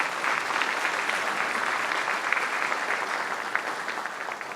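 A large audience at the Weslaco State of the City 2019 event gives sustained, dense applause for the event sponsors, a steady wash of clapping that runs throughout at even loudness.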